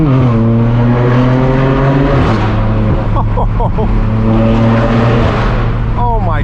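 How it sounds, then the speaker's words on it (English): Straight-piped BMW M4 F82 with a twin-turbo inline-six roars loudly and raspily up close, climbing through revs with a brief dip near the middle and short crackling blips from the exhaust, continuous throughout the run. "that deep sound from that inline 6 twin turbo, it's so raspy"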